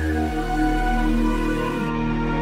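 A musical sample reversed and pitched down 200 cents plays steadily, with thick sustained tones over a low bass swell and no voices.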